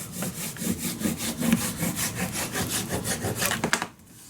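Paper on a handmade mini album is burnished down with quick back-and-forth rubbing strokes, a rapid rhythmic scraping close to the microphone that stops abruptly at the end.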